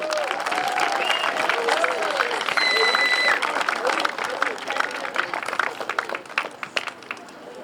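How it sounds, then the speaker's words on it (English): Crowd applause and cheering at a high school senior boys soccer game against Haverhill, the clapping steady and dense at first, then thinning into scattered claps alongside a public-address voice and crowd murmur. "another big round of applause for our 2022 senior boys soccer players."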